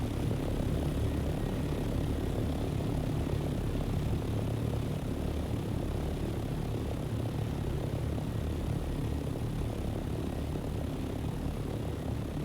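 A propeller aircraft flies through the desert in the game Dune: Awakening, its engine droning as a loud, steady, unbroken roar throughout.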